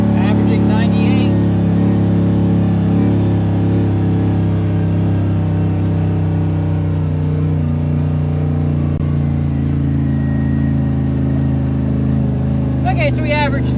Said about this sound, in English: last we averaged 98 decibels on the downhill engine braking.